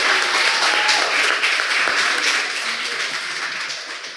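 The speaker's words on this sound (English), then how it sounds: "Let's get one more round of applause for all of our amazing debaters" A debating club audience at the Hart House Opening of the House applauds the debaters, dense sustained clapping from a full room that slowly fades toward the end.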